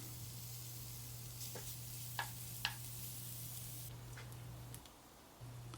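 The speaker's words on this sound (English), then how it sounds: "we've got a sizzle, so in we go with the fat" Beef fat renders and sizzles steadily in a cast iron Dutch oven, a soft continuous crackling hiss with a few faint clicks and knocks, under a low hum.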